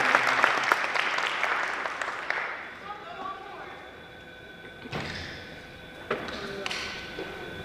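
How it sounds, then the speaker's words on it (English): Audience applause at a youth entrepreneurship panel event, clapping heard for the first few seconds and fading out, followed by scattered thumps and handling noises. "Let's give them another big round of applause."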